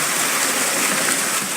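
Water streams steadily at a waterwheel set in a beaver dam, where rain has swamped the base of the wheel; a continuous near rush and splash runs through the whole span with no pauses.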